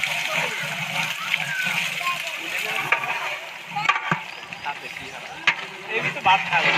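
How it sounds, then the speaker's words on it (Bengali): Hot water is poured into a big pot of khichuri being cooked for iftar at a mosque, sloshing and splashing in uneven bursts while several people talk nearby. "এখন গরম পানি দেওয়া হচ্ছে।"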